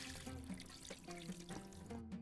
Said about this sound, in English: I'm going to drain off the water out of the rice.